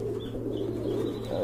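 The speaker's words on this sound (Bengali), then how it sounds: "একদম লাইট কালারের ভিতরে কবুতরটা ডাকতেছে" A light-coloured male pigeon gives a brief low coo, close and steady against a quiet background.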